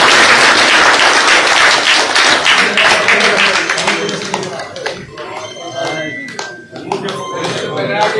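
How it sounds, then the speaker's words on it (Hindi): A crowd at a political rally applauds in a dense, loud burst of clapping that thins into scattered claps, while someone speaks over the tail end. "तालियों की गड़गड़ाहट के बीच"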